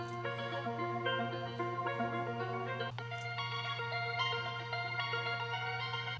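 An old beat is resampled in FL Studio, pitched down 200 cents and layered with a copy an octave higher. Bright stacked melodic notes shift in steps over a sustained low drone for about six seconds, with no talking.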